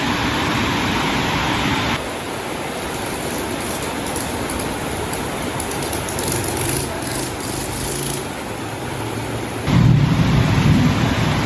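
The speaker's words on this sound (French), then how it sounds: "On entend l'orage super fort" Heavy rain roars steadily throughout in a thunderstorm in Cambodia, with deep rumbling swells of nearby thunder, growing louder near the end.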